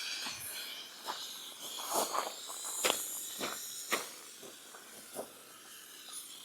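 Hand pump sprayer misting citrus pre-wash over a car in uneven hissy bursts, close and fairly quiet, with small knocks and handling noises scattered between the sprays.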